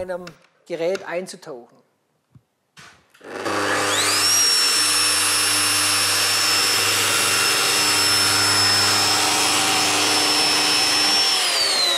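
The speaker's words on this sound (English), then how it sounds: "The groove was milled successfully." A woodworking milling machine cuts a groove into plastic material, a loud, steady high-pitched whine with a rising tone that runs continuously for several seconds after brief speech at the start.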